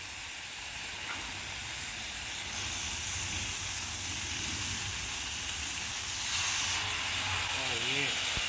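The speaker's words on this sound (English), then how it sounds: "Oh yeah, listen to that sizzle." Garlic herb pork loin sizzles on a Blackstone 36 Pro Series griddle, a steady loud hiss and crackle that runs throughout, with some steamy spitting near the end.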